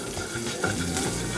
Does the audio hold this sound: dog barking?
no